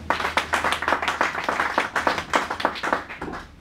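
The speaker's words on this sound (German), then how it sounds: "Applaus für Fighting." Applause at an ice hockey press conference honouring a team after an EHC Bayreuth versus EC Peiting game: a modest group clapping in quick, uneven bursts, fairly close, steady for a few seconds.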